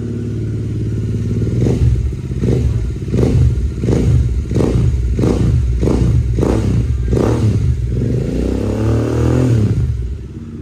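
Yamaha R15 motorcycle with dual exhaust idling after start, blipped in a run of about eight sharp throttle revs that rise and fall in quick succession before settling back to a low idle rumble, loud and close.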